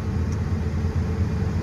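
A truck pulls up at a North Dakota wheat harvest field, its engine a steady low rumble, fairly close and unbroken, with no voices.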